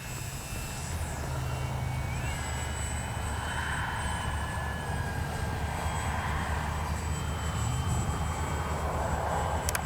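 An X-Fly Spitfire RC model warbird drones overhead with a steady engine whine, moderately distant and unbroken over several seconds.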